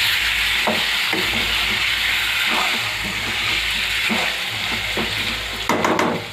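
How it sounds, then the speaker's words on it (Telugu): Chicken pieces fry with softened ginger and garlic in a pan, a steady close sizzle with repeated scraping stirs at irregular intervals, and no talk heard. "అల్లం వెల్లిపాయ మగ్గాక చికెన్ వేసుకోవాలి. వేసుకొని కలపాలి."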